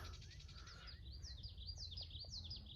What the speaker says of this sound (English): You can actually hear a bird right behind me.